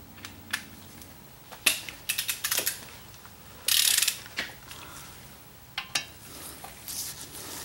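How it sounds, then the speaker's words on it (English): A long ratchet clicks in short bursts while loosening 15 mm caliper bracket bolts on a 2006–2012 Ford Fusion's front brakes, close and fairly quiet, with pauses between strokes. "I put a long ratchet on this to really make it easy to get off"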